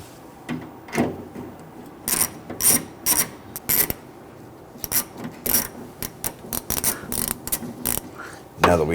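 Gear wrench ratcheting on bolts of a 2011-2015 Kia Sorento during parking assist camera work, a series of quick sharp clicking bursts in short repeated runs, close up, with no talking.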